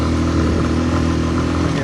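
Idling engine of a Hartford VR motorcycle, a steady close mid-pitched rumble with a faint clatter running evenly throughout, no voices present.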